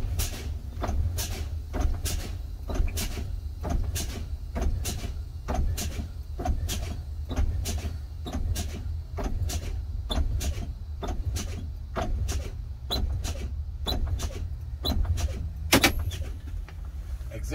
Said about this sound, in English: I will continue pumping the service brake once again and watch my tractor and trailer protection valve carefully.